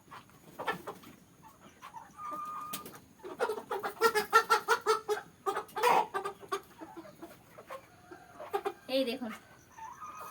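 Large, fully feathered farm chickens weighing around three kilos cluck repeatedly in bursts while one is caught by hand, with someone talking over the fowl throughout.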